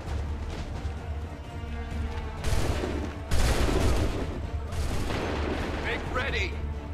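Musket volleys ring out in Assassin's Creed III amid a Revolutionary War battle, as loud crackling fusillades burst in waves over a rumbling background, with soldiers shouting orders.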